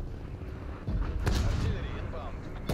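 Artillery fire in Call of Duty Cold War, a heavy booming barrage that swells into a loud rumble midway and keeps rolling, ending on a sharp report, over game background noise.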